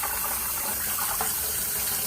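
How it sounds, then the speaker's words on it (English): Steady rush of water from a garden hose pouring onto an upside-down tomato plant, a continuous close splashing flow without pauses. "So I'm going to turn the water on."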